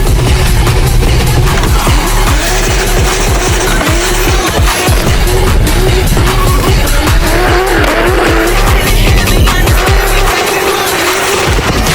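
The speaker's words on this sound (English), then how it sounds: "about to go do some drift stunt show things" A 2JZ-engined car drifting at a stunt show in Bahrain, its engine roaring loud and close while the tires squeal and skid in long repeated bursts, with no talking.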